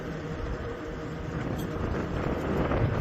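Wind buffets the microphone with a steady rumbling roar, broad and continuous throughout, on a windy morning at Castaway Cay in the Bahamas with a cruise ship docked.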